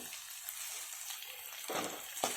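Beans and potatoes fry in a hot tawa for pulao, a steady close sizzle with no talk, broken near the end by two short louder bursts as the vegetables are stirred.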